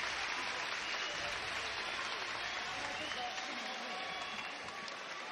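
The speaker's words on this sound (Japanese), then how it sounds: "もう拍手が送られます。" Sustained applause fills a large arena during an injury break in a K-1 featherweight tournament semifinal, a broad steady roar of clapping with faint commentary beneath it.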